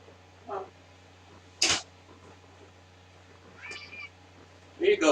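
A cat meows several times, short close cries spaced a second or two apart against a quiet room hum, with a person talking softly between them.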